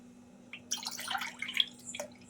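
Water poured from a cup into a pot on a gas stove while preparing rice-flour dough for dudh puli pitha, a splashing trickle with brief drips, fairly faint over a steady hum.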